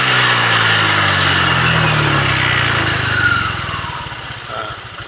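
A Honda Vario 125 scooter engine revs under throttle, holding a loud, buzzing drone up close before the pitch slides down and settles toward idle.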